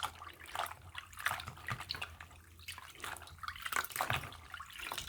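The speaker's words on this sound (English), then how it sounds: "I put my labels in there and just kind of swish it around" Clothing labels swished around by hand in a bowl of water, giving continuous close sloshing and trickling splashes in uneven waves, with no talking.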